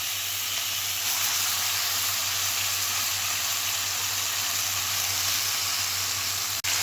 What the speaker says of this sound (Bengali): আর এই চিংড়ি মাছের তেলের মধ্যে এই কচু পাতাটা আমি দিয়ে দেবো।